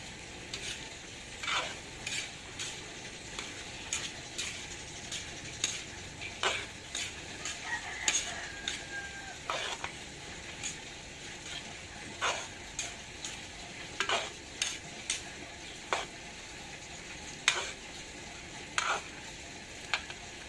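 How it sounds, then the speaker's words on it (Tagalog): A spoon scrapes and clicks around a pan in an irregular rhythm, stirring peanuts, sugar and a little water thickening over a faint, steady sizzle, with no talking. "hihintayin natin yan kung ito ay kumukulo na at maging malapot"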